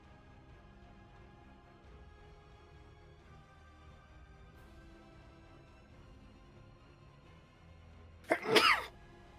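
A single sharp sneeze bursts out loudly near the end, after several seconds of quiet room hum.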